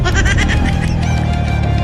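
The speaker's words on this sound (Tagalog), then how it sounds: "Ay putang ina, kambing." Loud, close goat bleating, repeated wavering cries over a busy, noisy background.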